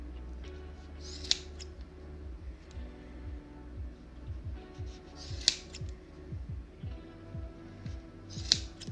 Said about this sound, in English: you just take your scissors, go through the loops and cut them